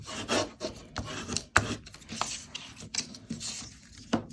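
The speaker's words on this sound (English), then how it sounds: "I'm going to give that a good burnish." A folded paper pocket for a Halloween folio being burnished, with quick raspy rubbing strokes in an uneven rhythm and a sharp scrape midway, close and clear with no talking.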